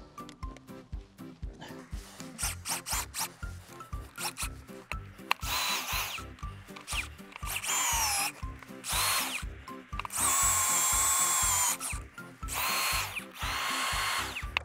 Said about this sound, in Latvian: esam izurbuši arī 4. caurumu un urbsim 5.